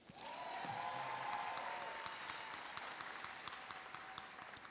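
Sustained audience applause fills a graduation ceremony hall for the class of 2026, a steady dense wash of clapping that holds throughout at a moderate distance, with a faint tone lingering underneath.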